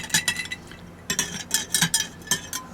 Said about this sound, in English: We'll give you a little stir